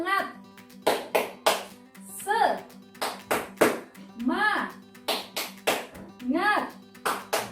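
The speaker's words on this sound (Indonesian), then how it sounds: "yuk kita tepuk semangat dulu" A class of fifth-grade children claps out the rhythmic Indonesian 'tepuk semangat' routine, with sharp repeated claps in a quick patterned beat alternating with a teacher's and children's chanted voices.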